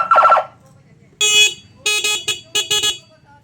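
A dual wangwang siren horn fitted to a Honda PCX scooter, heard as one short blast followed by several loud, bright, clipped honks in a quick broken rhythm, close to the microphone.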